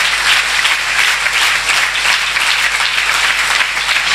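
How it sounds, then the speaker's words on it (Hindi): Congregation clapping their hands during a Hindi-language church service, a loud, dense and continuous roar of applause that holds steady throughout. "आप यहाँ तालियां बजा रहे हैं"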